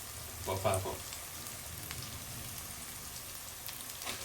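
Chicken frying with green chillies, onions, turmeric and ginger-garlic paste for a chicken fenugreek fry, a soft steady sizzle heard close, with a brief clatter near the start and a voice speaking.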